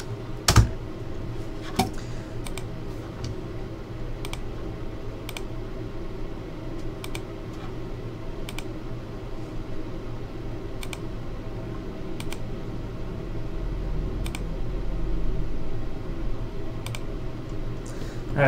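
Scattered keystrokes on a computer keyboard, sharp individual clicks spaced irregularly over a quiet room hum, close and fairly crisp, with no talking.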